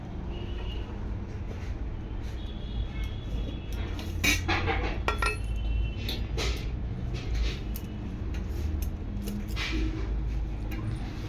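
Hot rice is served onto a plate at home, with scattered clinks and scrapes of dishes and utensils over a steady low background hum, with no one speaking.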